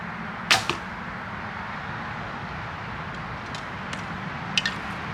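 Homemade string silencers on a hunting bow muffle two shots, each a soft, brief thump-release with a faint fading hum, one early and one near the end, over steady low outdoor background noise.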